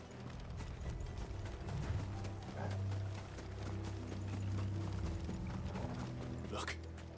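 Horse hooves clip-clop in Final Fantasy XVI, a steady rhythmic patter under a low sustained game drone, moderately loud with mechanical creaks mixed in.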